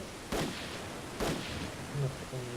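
Two distinct gunshots ring out in the online shooter Wolfteam, about a second apart, followed by faint game sounds and a brief low-level voice in the background.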